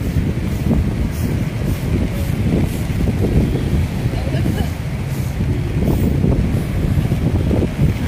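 Steady gusting wind at Dolomite Beach on Manila Bay during bad weather roars across the microphone with a broad rushing noise, a constant loud bluster throughout.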